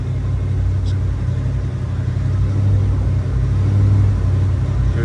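The engine of a 1982 Ford Bronco XLT rumbles close by at a low, steady idle, swelling slightly with light pedal taps and then settling back, with no talk over it.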